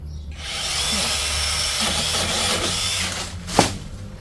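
A TEH LPS508 8-inch cordless chainsaw on an extension pole drones steadily as it cuts through a high branch, ending in a sharp crack as the wood gives way.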